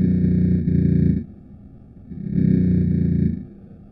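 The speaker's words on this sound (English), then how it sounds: "which the army claims is the sound of Hezbollah's terrorists tunneling into Israel from Lebanon" Underground tunnel digging by Hezbollah from Lebanon toward Israel, recorded by the Israeli army: two loud, droning, grinding machine bursts with a gritty buzzing texture, separated by a quieter rumbling lull.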